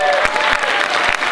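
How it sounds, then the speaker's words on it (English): A church congregation claps for its volunteers in a brief, steady burst of applause with a few sharper hand claps standing out. "Can we applaud for the volunteers?"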